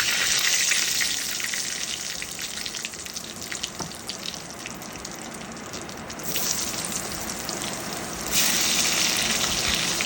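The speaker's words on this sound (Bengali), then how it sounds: "কড়াইতেই জিরে ফোড়ন দিয়ে দিতে হবে কেটে রাখা আলুগুলো" Cut potatoes fry with cumin seeds in hot oil in a wok, giving a steady, close hiss and sizzle that surges louder twice with a few faint clinks, no voices.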